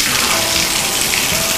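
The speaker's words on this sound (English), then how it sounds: "fixtures, make sure they work correctly, make sure the hot is on the correct side and the cold's on the correct side, make sure the shower works well" Water gushes steadily from a household tap and shower during a home inspection, a constant loud broadband rush with no pauses, filling the whole stretch alone.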